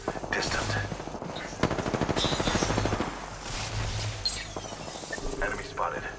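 Rapid automatic gunfire from Apex Legends comes in repeated bursts, with short pauses between them, mixed with game sounds and occasional talk.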